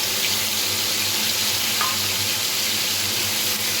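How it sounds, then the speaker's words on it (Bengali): Onion, garlic, ginger and green chili paste frying in oil in a pan with cumin seeds, a close, steady, loud sizzle that continues without a break. "খুব সুন্দরভাবে এগুলো ভেজে নেব।"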